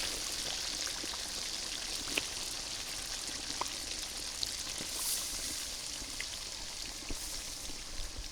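Steady rain patters outside during a wintry cooking session of country chicken curry with new potatoes, a continuous broadband wash with scattered faint drips and no voices.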